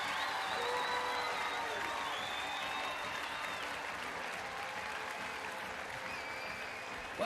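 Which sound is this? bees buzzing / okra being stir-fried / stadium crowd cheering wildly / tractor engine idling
stadium crowd cheering wildly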